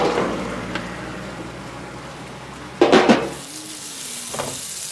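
Pre-grilled lamb chops and lamb sausage sizzle on a hot plate as sauce is brushed on, a steady close frying hiss with a sudden louder burst of spitting partway through.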